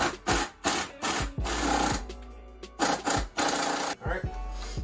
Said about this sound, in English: we're gonna go ahead and tighten our 21 millimeter nut